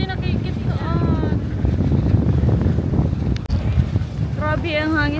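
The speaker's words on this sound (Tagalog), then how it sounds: "Grabe ang hangin-hangin." Strong wind buffets the microphone outdoors on a land tour in Guimaras, a loud continuous rumbling roar while people talk over it.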